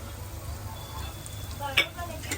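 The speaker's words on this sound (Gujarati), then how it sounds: "આદુ લસણ નાખ્યા બાદ હવે આવશે મરચાં" Green chillies dropped into a pan of onion, garlic and ginger frying in oil, giving a low continuous sizzle with stirring scrapes and a brief louder burst near the end, fairly quiet overall.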